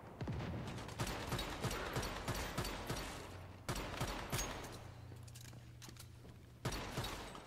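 Rapid bursts of gunfire from a gun in the video game Once Human crackle in repeated volleys, with short pauses between bursts and a faint mechanical hum underneath.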